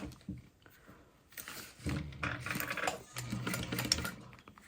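A sewing machine top stitches slowly at a long stitch length around the edge of a holographic fabric bag, and its close, steady mechanical whirr builds after a brief quiet start.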